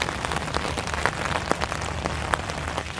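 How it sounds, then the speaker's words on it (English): Steady rain patters on a nearby surface beside a fishing lake, with a dense hiss of drops and occasional louder individual splashes, no voices. "As you can hear, it's raining."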